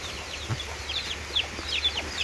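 Young chicks peep and cluck softly nearby on a rainy morning, with short high chirps scattered irregularly over a low, steady background hum.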